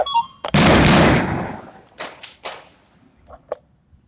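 A loud, sharp bang of gunfire crashes out and rings off inside the Senate building, then several fainter cracks and pops follow at uneven intervals, like gunfire at a distance.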